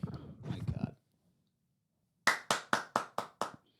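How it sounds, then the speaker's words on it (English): Six sharp hand claps ring out in quick, evenly spaced succession after a brief bit of talking and a pause, close and loud. "Wait, let's see your clap."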